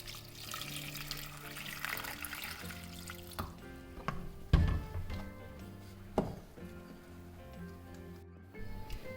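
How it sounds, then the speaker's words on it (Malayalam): Water is poured into a pressure cooker holding cowpeas and cucumber for a Kerala curry, a steady splashing and trickling that runs for several seconds with a few clinks of the pot, close and moderately loud. "ആവശ്യത്തിന് വെള്ളം കൂടെ നമുക്ക് ഒഴിച്ചു കൊടുക്കാം."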